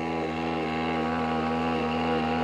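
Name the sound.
two-stroke diesel moped engine running and misfiring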